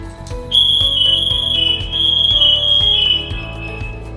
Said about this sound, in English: In the case of an emergency, they can set off an alert